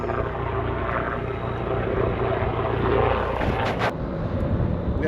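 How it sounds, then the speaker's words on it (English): A firefighting helicopter returns to a staging area at the Sandy Fire, its rotor and engine a loud, steady drone that swells slightly as it draws closer. "Chopper's coming back."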